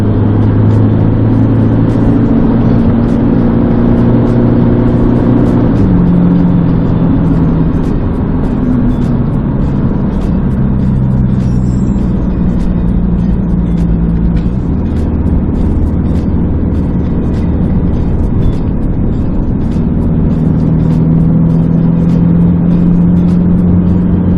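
An Isuzu D-Max in semi-auto shiftronic mode climbs a hill in Sabah, its engine droning loud and steady from inside the cab, pitch rising and dropping with gear changes, with no talk.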